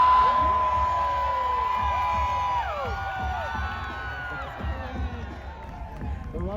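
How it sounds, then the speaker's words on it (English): A large outdoor crowd at a ski joring event cheers, whoops and shouts continuously, loud and close, with one sustained whistle early on and overlapping voices throughout. "the audience would vote for the best ski jorer with their cheers"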